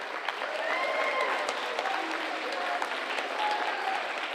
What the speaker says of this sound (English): Give a big round of applause to these guys